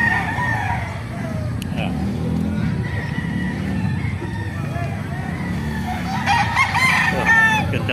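Gamecock roosters crow repeatedly at a busy Bocaue market, the calls overlapping with clucking and general crowd noise. People talk throughout, and a car can be heard in the background.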